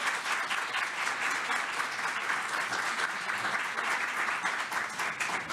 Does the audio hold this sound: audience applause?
yes